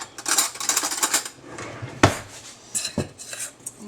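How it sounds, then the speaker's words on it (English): A spoon stirs pizza dough ingredients with salt, oil, herbs and garlic powder in a bowl, giving irregular close clinks and scrapes against the bowl in short bursts with brief pauses. "Now, you just want to stir long enough just to combine it."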